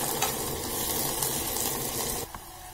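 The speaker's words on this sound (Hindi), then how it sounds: "ये तेल पूरी तरह से गर्म हो चुका है। अब हम इसमें इन सबको डाल देंगे।" Onions sizzle and fry in fully heated oil in a pan, a dense steady crackling hiss that holds level then drops off abruptly near the end; no talking.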